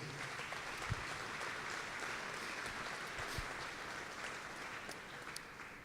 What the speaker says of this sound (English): If you'd give them a round of applause, please.